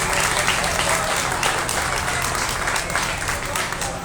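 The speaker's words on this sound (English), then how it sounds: "if you would give them a nice round of applause" Crowd applause for the kids at a county fair swine show, steady and dense throughout with a hum beneath it, fairly close.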